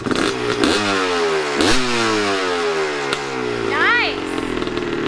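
Dirt bike engine revving hard in several rising and falling bursts, loud and close, with a voice cutting in near the end.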